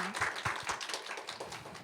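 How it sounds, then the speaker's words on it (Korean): A live audience at a startup demo day applauds together, a steady spatter of many hands clapping at moderate volume throughout, with no talk over it. "감사의 마음을 받아 박수를 한 번 더 치도록 하겠습니다"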